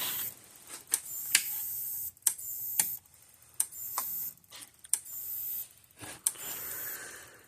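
An oversized electric fence energizer on too little fence load gives sharp, loud clicks and snaps at uneven intervals of roughly a second, each decaying quickly against a quiet background.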